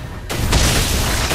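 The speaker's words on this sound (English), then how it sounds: "Our turret has been destroyed." A turret is destroyed in the Mobile Legends video game, a short deep boom that swells suddenly and holds as a dense rumbling burst.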